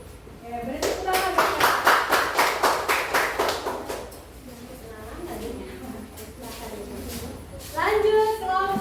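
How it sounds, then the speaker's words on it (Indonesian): Applause from a classroom group after a student presentation, a burst of rapid claps that fades within about three seconds, then quieter murmuring and a voice nearby. "beri tepuk tangan"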